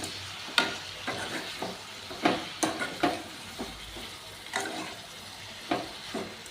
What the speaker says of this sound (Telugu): ఇలా ఒకసారి కలదిప్పుకోవాలి